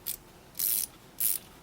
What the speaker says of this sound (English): can hear the ratchet is quite nice